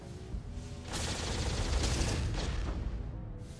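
Gunfire in the Starfield space game, a sustained loud burst of rapid shots and blasts lasting a few seconds, then fading, with no talk.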